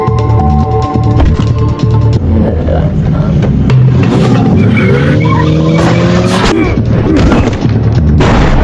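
A car races through a film chase scene, engine roaring loudly and continuously with skids, booms and crashes layered over a dense, busy mix.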